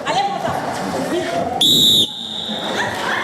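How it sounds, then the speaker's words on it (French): A loud, shrill referee's whistle blast lasting about half a second cuts through the hubbub of an improv theatre match, with voices and crowd noise continuing before and after. "Heureusement qu'il y a eu le coup de sifflet"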